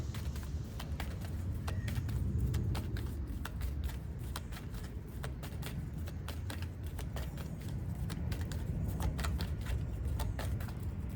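Tarot cards shuffled and drawn by hand, a steady run of soft riffling flicks and slaps over about eleven seconds, close and fairly quiet with no talk.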